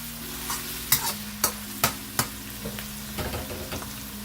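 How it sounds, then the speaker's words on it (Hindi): Vegetables frying in a pan for restaurant-style beef chow mein, stirred with a utensil that lands several sharp knocks and scrapes over a low, constant sizzle and a faint steady hum, with no talking. "अभी हमें सारी वेजीज को तल के इसमें से निकालना है फ्राई करके"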